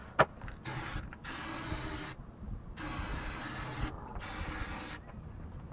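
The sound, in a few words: brake cleaner being sprayed on rear differential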